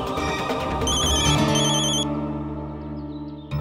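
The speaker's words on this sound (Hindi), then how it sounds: "अक्षरा का फोन" A melodic electronic phone ringtone plays loudly and continuously, its tones cycling in a repeating pattern, with a brief click near the end.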